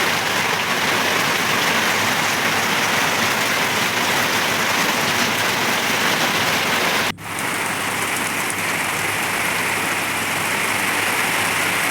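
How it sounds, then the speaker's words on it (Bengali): Heavy storm rain pours down continuously outside a house, a dense, loud, unbroken wash of drops with one brief dip in the roar partway through. "বাড়ির পিছন দিকেও বৃষ্টি হইতেছে, অনেক বৃষ্টি, ধোঁয়াশার বৃষ্টি হইতেছে।"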